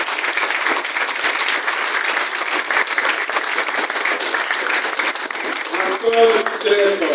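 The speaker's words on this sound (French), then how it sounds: "Applaudissons encore très fort." A conference crowd claps loudly and continuously, a dense, sustained round of applause, with a voice briefly rising over it near the end.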